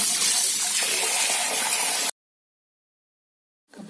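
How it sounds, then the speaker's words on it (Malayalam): Water pours steadily into a cooking pot of washed tapioca for about two seconds, a loud close splashing rush that cuts off into silence before a faint sound returns at the end. "കഴുകുവാരി വെള്ളം ഒഴിച്ച് അടുപ്പത്ത് വെച്ച്"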